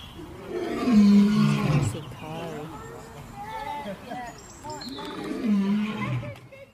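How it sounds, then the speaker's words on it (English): A cartoon lion roars in a loud, drawn-out burst, then after a quieter stretch of tune a second roar follows, set against a children's phonics song with singing throughout. "L for lion"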